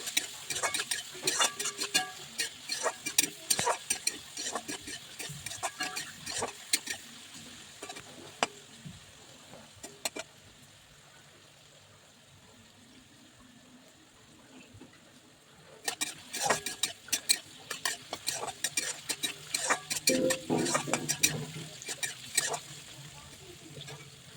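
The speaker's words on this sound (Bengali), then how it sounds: "নাড়াচাড়া করে ভেজে নিতে হবে" Fried rice being stirred and fried in a pan in a home kitchen, with spoon scrapes and light clatter in dense bursts, a quieter stretch midway with only a faint sizzle, then renewed vigorous stirring.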